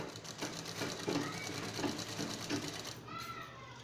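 A sewing machine stitches fabric for a frock in quick, rhythmic mechanical bursts, close but fairly quiet, stopping briefly near the end.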